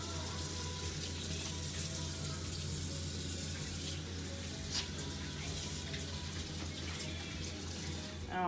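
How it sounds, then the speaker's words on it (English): Tap water runs into a sink while hands are washed, a steady close rush with faint splashes and no talking. "So let me wash my hands again here."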